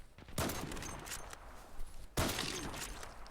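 Gunfire in the video game Zula Strike, two loud bursts of rapid automatic shots, the first running about two seconds and the second starting just after, close and alone without talking.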